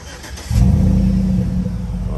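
Modified-muffler 2007 Chevy Tahoe engine fires up abruptly and settles into a loud, deep, rumbling idle with slight revving, close by.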